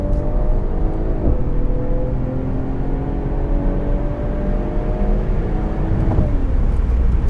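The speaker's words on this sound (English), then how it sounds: "we're just doing straight line, big open road pulls" A Mercedes-AMG GT 53 accelerating hard in a straight line on a big open road, its engine note climbing steadily and loud throughout, with gear changes around the one- and six-second marks and no talk.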